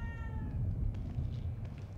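A cat meows faintly in The Evil Within 2 game, short soft calls set against a low rumbling ambient drone, with a brief tonal chime fading at the start.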